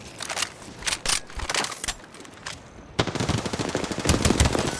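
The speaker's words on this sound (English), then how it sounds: "Being shot at." Rapid automatic gunfire in the battle-royale game Apex Legends, close bursts of shots with crackling impacts that grow denser and louder toward the end, with no talking.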